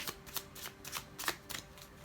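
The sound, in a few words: shuffling a deck of tarot cards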